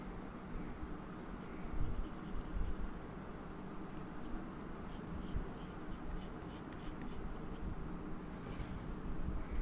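A pencil sketching short hair strokes on paper for a Goku drawing, a close, steady soft scratching that runs continuously with small rhythmic variations and no talk.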